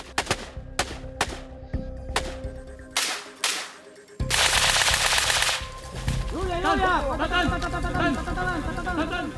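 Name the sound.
soldiers vocally imitating gunfire in unison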